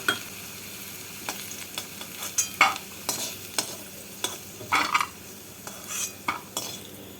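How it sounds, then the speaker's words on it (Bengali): Potato pieces fry in oil in a wok until browned, a low steady sizzle broken by about a dozen sharp scrapes and clinks of a metal spatula stirring against the pan. "আলুগুলোকে আমি এভাবে লাল করে ভেজে নিলাম"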